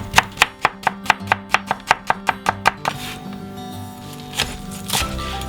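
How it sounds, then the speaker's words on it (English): A knife chops peeled shallots on a board during vegan Thai green curry prep: about twelve quick, evenly spaced sharp chops, loud and close, then a softer stretch of scattered handling sounds with a couple of light knocks. "2 to 3 shallots, peeled and roughly sliced."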